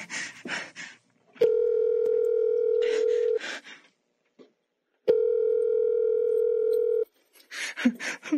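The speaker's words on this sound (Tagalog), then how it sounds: "Kailangang matawagan ko agad si Mami." A cellphone ringback tone sounds during an outgoing call, two long steady beeps separated by a pause, with brief breathy vocal sounds before, between and after them.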